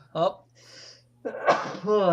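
A man's sneeze, loud and close, comes with a sharp onset, a breathy intake between bursts, and a second forceful sneeze trailing into voiced exhalation.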